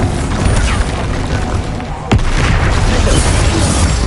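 A loud Bombarda spell explosion booms in Hogwarts Legacy, with a sharp crack midway followed by a heavy, sustained rumbling blast up close.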